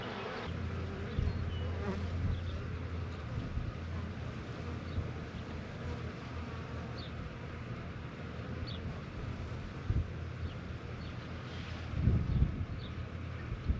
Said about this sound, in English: Just looking at the ground here, I noticed there's this cluster of bees.